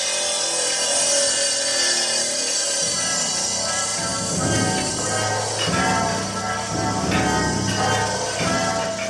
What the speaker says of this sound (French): Acier contre acier, les scies tournent.